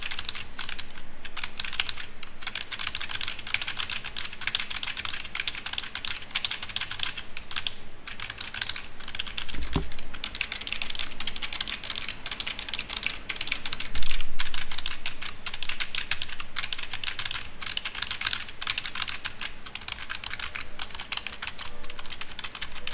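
Continuous rapid typing on a computer keyboard, dense clattering keystrokes running steadily throughout at close range, with no talk.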